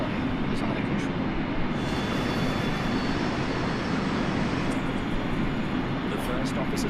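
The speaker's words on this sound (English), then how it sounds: "The DC-9 plummets towards the ground at over 700 kilometers per hour." A DC-9 airliner in Microsoft Flight Simulator dives toward the ground, its engines giving a steady, loud, dense roar that stays constant throughout without letting up.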